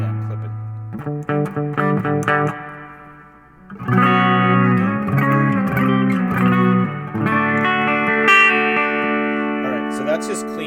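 Clean electric guitar through a black-panel style amp with a touch of reverb, tested on a Klon-style overdrive pedal build bench: ringing notes and chords sustain and overlap at steady, fairly loud volume, with a brief dip before a fuller strummed passage.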